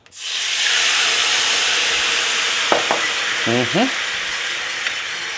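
Lemon juice poured into a hot pan of chicken piccata fond bursts into a loud, steady sizzle that holds throughout, with a few brief squeaky scrapes in the middle.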